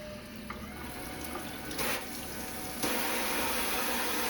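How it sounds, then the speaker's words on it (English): Water running from a sink tap in a workshop, a steady hiss that grows louder partway through as the flow is turned up, continuous and close with no talking. "turn some water on."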